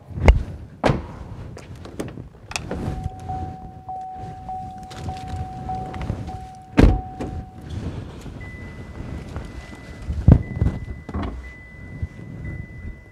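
The front door of a Chevrolet Trailblazer RS small SUV is opened and slammed shut nearby with sharp thuds, while rustling, seat creaks and steady electronic chimes fill the gaps.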